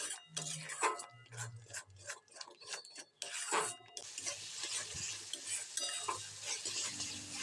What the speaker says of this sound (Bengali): এবার লো টু মিডিয়াম ফ্লেমে মশলাটাকে ততক্ষণ কষাতে হবে যতক্ষণ না এই